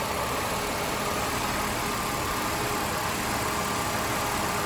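A 2001 Ford Taurus engine idles steadily after an exhaust manifold gasket repair, a smooth, even, continuous hum heard close up with no voices.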